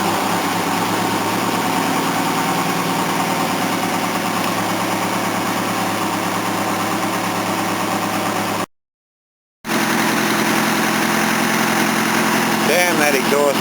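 A car engine idles at a steady low throb with a raspy exhaust leak adding a rough, buzzing edge, on a 3 °C day; the drone runs continuously with one short drop-out partway through.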